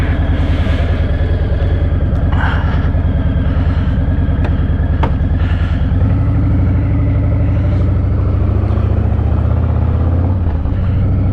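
Motorcycle on a spring ride to the dealership, its engine droning steadily and loudly up close for the whole stretch, with a rough low rumble that shifts slightly in pitch, and no talking.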